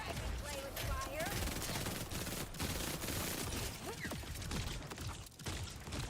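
Gunfire in the video game Outer Worlds 2, dense rapid shots and clattering bursts filling the mix almost continuously, with voices mixed in.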